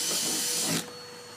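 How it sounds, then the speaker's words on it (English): A drill with a large 5/16-inch or bigger bit bores a starter hole for a jigsaw cut in a cornhole board, giving a loud, steady whirring grind for under a second before it cuts off abruptly. "So we'll use a drill, large size, 5/16 or bigger."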